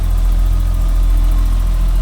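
A 1987 BMW 325i convertible's 2.5 liter single overhead cam inline six-cylinder engine idles steadily up close in the engine bay, a smooth continuous low rumble with no talk.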